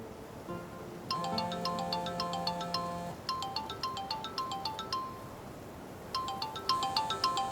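Phone ringtone chiming in repeated bright melodic bursts with brief pauses between phrases, fairly clear and close, with no talk over it.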